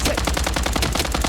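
Rapid automatic gunfire in the shooter game Blood Strike, a dense, loud, evenly spaced burst of shots sustained through the whole moment with no voices.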